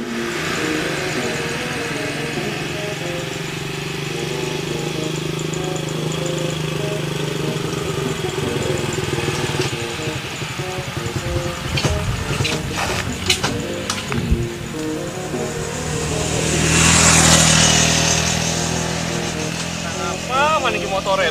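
An old motorcycle engine idles steadily under ongoing talk, swelling into a louder rev near the end before settling back to a rough idle.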